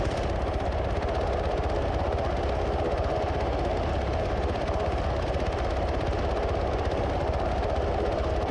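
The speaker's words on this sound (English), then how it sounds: "helicopter coming in from the north. It looks like a Blackhawk" A Black Hawk helicopter in the Arma 3 video game gives a steady, loud rotor and engine drone that holds unbroken through the whole stretch, with no voices over it.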